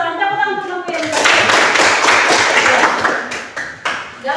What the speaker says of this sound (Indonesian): Tepuk tangan untuk kelompok Yerusalem.